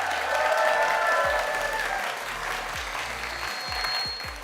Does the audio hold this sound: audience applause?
yes